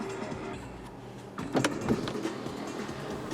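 The power moonroof motor on a 2018 Acura RDX hums faintly inside the cabin, a quiet whir with a couple of soft mechanical clicks midway.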